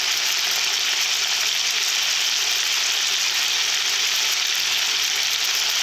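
Potatoes and peas with turmeric sizzle steadily in a hot pan for a vegetarian mash, a dense, even frying hiss with faint stirring and no voices.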